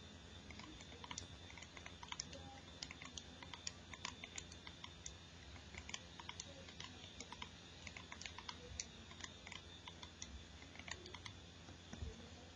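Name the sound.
typing in data points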